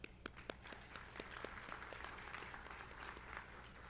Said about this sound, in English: we will give them a round of applause